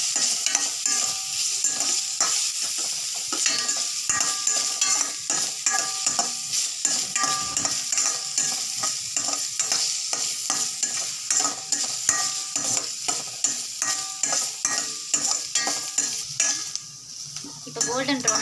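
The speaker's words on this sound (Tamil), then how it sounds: "நல்லா கோல்டன் ப்ரவுன் ஆகிற வரைக்கும் வெங்காயத்தை ஃப்ரை பண்ணிக்கலாம்" Onions fry in oil in a pan until golden brown, a steady bright sizzle broken by constant quick scrapes and clinks of a utensil stirring, close and unbroken for the whole stretch.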